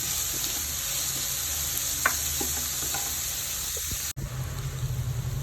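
Shallots and other ingredients fry in a pan for a broad bean thoran, a continuous close sizzle broken by a few light scraping stirs and a brief cut near the end.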